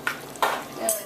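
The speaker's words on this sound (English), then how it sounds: "Do a quick stir." Yu choy in oyster sauce given a quick stir in a pot: a few brief scraping strokes over a low sizzle, close and soft, with no talking.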